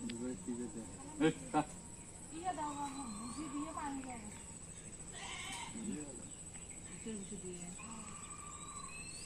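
A large goat bleating at close range, several wavering calls spread across the clip, with people talking throughout over a constant background hum.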